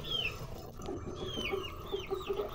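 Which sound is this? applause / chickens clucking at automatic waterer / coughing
chickens clucking at automatic waterer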